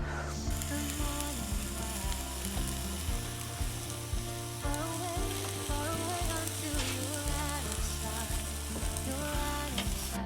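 Salmon, roast potatoes and stir fry sizzling in a pan at a campsite, a loud, steady frying hiss with occasional stirring scrapes and clinks, no talk.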